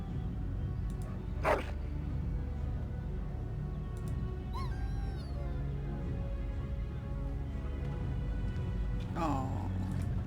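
Dog barks and yips from the video game Dragon Age: Origins, a couple of short bursts spaced apart over a steady game soundscape, with a player's voice talking over parts of it.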